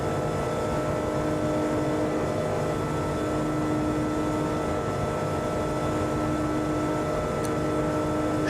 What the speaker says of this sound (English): I can quiet the engine down if it's too loud.